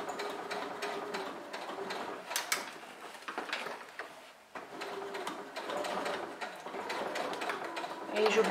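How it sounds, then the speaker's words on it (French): A domestic sewing machine topstitches along a fabric handbag in quick, close stitching bursts separated by short pauses. Soft handling noises of the fabric come between the runs. "Et je continue donc ma couture."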